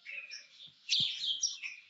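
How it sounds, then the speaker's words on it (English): Birds chirp busily in a flowering desert garden in springtime, several bright tweets and calls overlapping in a steady, close chorus with one louder burst midway. "And the birds are going crazy."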